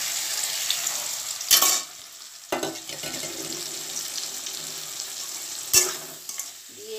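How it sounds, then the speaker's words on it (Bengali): Spice paste of Kashmiri chilli powder and hot chilli powder mixed in water, frying in a pan for dhokar dalna, with a steady sizzle broken by a few sharp bursts as it is stirred; no one talks. "আমি এটাকে কষাতে থাকি কিছুক্ষণ"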